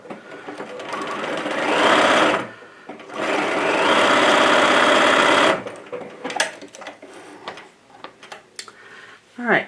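Sewing machine stitching through sheet-set fabric in two long runs, a steady whirring buzz with a short pause between, followed by quieter clicks and handling noises.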